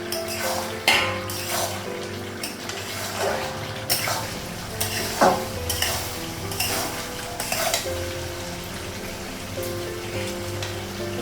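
Meat being stirred and sautéed in a pan at home, with repeated scraping and clinking of a spoon against the metal over a steady sizzle, the strokes coming in an uneven rhythm throughout.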